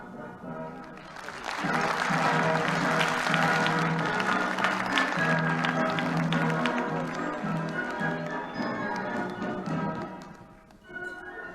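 Sustained audience applause for a comedian at a Korean stage comedy show, a dense wash of clapping from a large crowd that swells quickly, holds steady and fades near the end.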